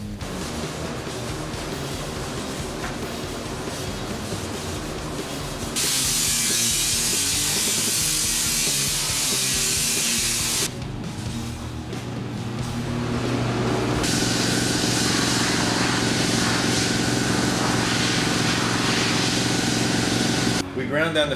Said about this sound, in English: then came in with the sandblaster afterwards. You can see it's doing a pretty nice job of getting everything clean